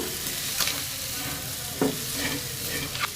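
Chopped yardlong beans sizzle steadily in a hot pan, a constant frying hiss broken by a few sharp scrapes as the food is stirred.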